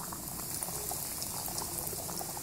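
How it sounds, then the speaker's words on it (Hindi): Chicken nuggets deep frying in hot oil, a soft continuous bubbling and sizzling hiss with scattered faint pops, heard alone and fairly quiet. "अब हम नगेट्स फ्राई करेंगे।"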